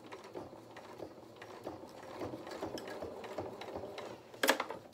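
A home sewing machine stitches fabric for a soft toy cow's head, giving a faint steady mechanical whir and patter with a louder clack near the end.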